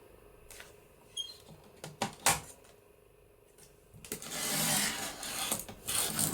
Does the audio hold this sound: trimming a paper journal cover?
yes